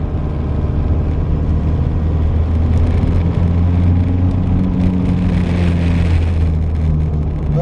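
Citroen CX diesel with a small turbo, worked hard on the open road, its engine droning loudly and steadily with a low rumble and some vibration throughout, no talk.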